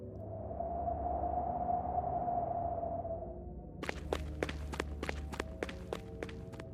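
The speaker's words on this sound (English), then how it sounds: "followed by the footsteps running away." Footsteps running away across snow in a backyard: a quick, regular series of sharp, crisp impacts that begins after a few seconds of low droning wind and continues steadily to the end.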